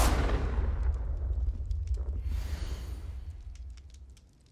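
Blasting curse explosion from a spell cast in Hogwarts Legacy, with a loud booming blast that rolls into a long, slowly fading rumble over several seconds.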